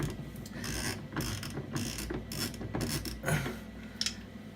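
A Bristan Prism basin tap's valve cartridge is unscrewed by hand, giving a run of close, rhythmic ratcheting clicks and grinding turns that repeat for several seconds.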